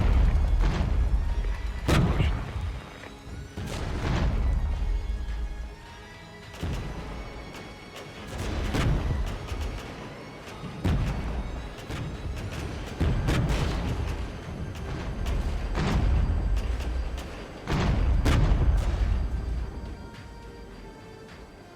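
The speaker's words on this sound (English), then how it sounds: "So much mortar fire." Repeated heavy mortar fire and explosions from a military battle in the strategy game Regiments, a steady run of deep booming impacts roughly every couple of seconds, some close and loud, others more distant, with continuous rumble between blasts.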